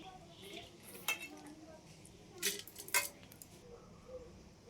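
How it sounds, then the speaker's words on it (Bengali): Washed dal going into a metal pressure cooker: a few sharp, close metallic clinks and knocks spaced over several seconds against a quiet kitchen background. "এবার এটাকে আমি প্রেশার কুকারের মধ্যে দিয়ে দেবো"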